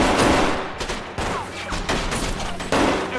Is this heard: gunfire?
yes